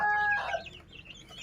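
A newly hatched chick gives a short, nasal squawk near the start, followed by softer clucks that trail off quickly.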